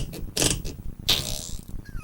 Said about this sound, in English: It's tough to have a conversation when there's fart noises.